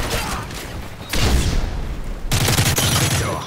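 Gunfire in the video game Modern Warfare 3: loud bursts of shots, with a dense volley at the start and another cluster later, heard against game noise and a little speech.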